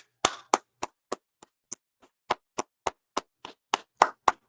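Sharp, isolated claps ring out one after another at a slow, fairly even pace during a religious law class gathering, with brief silence between each crisp slap of the hands.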